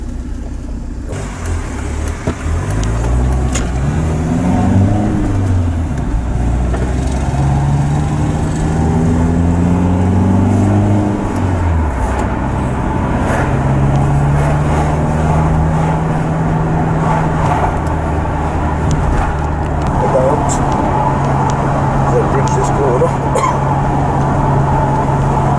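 BMW X3 driven slowly in second gear on a road test, a car with a juddering fault; a steady low engine drone rises and falls in pitch as it gently accelerates, close and continuous inside the cabin.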